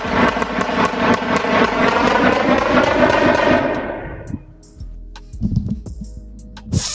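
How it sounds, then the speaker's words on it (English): Dozens of gunshots captured on street surveillance, a loud rapid barrage of sharp cracks for several seconds, then scattered single shots and fainter bangs as it tapers off. "More than 40 gunshots can be heard."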